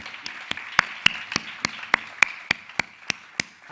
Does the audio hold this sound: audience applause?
yes